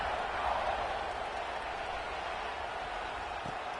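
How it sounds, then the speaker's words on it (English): Steady stadium crowd buzz from an NCAA 26 college football video game, a continuous broadband roar at even loudness across the whole stretch, with no distinct cheers or words standing out. "this crowd is buzzing after that last score"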